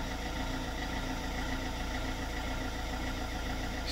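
A car engine runs steadily at idle after being restarted, a continuous low mechanical hum with faint rattle, close and fairly even throughout with no talk.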